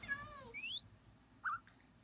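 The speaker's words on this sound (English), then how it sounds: "There's the birds." Birds in a video game give a few short, high, whistly chirps and a rising squeak, then a brief tweet, moderately faint over a quiet background.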